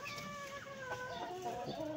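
A bulik talisay rooster gives steady clucking and chortling calls while held, close and clear, with several overlapping tonal notes over soft background noise.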